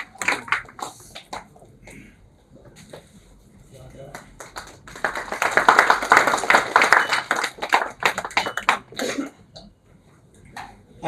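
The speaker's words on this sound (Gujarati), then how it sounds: "સૌને તાળીઓથી વધાવવા વિનંતી" An audience at a textile business event claps to welcome a speaker, a swelling round of many hands that peaks midway and fades, with a voice talking before and after and scattered coughs.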